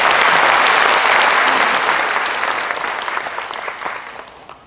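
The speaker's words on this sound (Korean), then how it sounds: "낭독해 주신 보건소 강재구 과장님께 큰 박수 부탁드리겠습니다" Loud, sustained audience applause fills a county officials' retirement ceremony in Geumsan, Korea, dense clapping from a large crowd that slowly tapers off without any talk.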